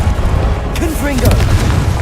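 A Confringo blasting spell explodes in Hogwarts Legacy: a loud, booming game blast with a rumbling low tail and a short whooshing, whistling magical sweep.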